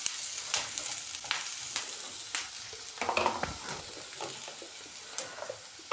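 Bell pepper sizzles in a hot pan for an omelette, with a steady crackling fry broken by sharp scraping stirs and clacks; close and moderately loud, no talking.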